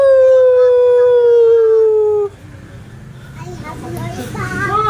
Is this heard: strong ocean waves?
no